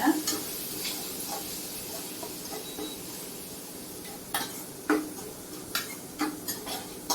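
Tomatoes sizzle in a frying pan as a spoon stirs them, making a soft steady fry beneath sharp, intermittent scrapes and taps against the pan, heard close with no speech.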